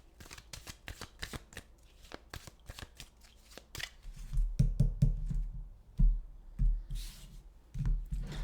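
Tarot cards being shuffled by hand nearby, a quick run of crisp riffling flicks and slaps, then softer, fuller thumping of the deck being squared and shuffled again.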